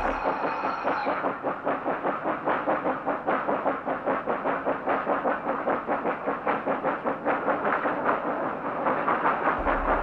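An Orenstein & Koppel 050T steam locomotive, number 38, hauls oil tank cars, its loud, close exhaust chuffing in a fast, regular beat over a constant rumble of rolling stock.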